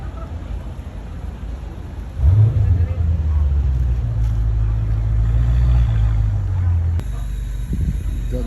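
A car engine rumbles steadily from inside the vehicle after a rise at the start, a low sustained drone with some wind noise, while people talk.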